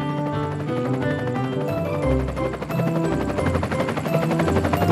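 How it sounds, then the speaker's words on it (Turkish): A cartoon helicopter from a children's animated show about smart cars playing bowling, its rotor chopping steadily and loudly over background music for a few seconds, with no talking. "Bir helikopter."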